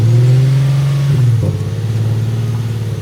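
A car engine with no air intake fitted revs hard and close, a loud sustained drone that dips and then settles into a rough, pulsing idle-rev, with no talking.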